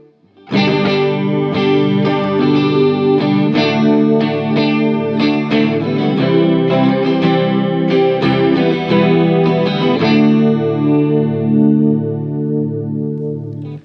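Clean electric guitar chords strummed through an ENO Music Gemini chorus pedal, with a shimmering, wavering chorus effect, loud and close, ringing out alone without any talking.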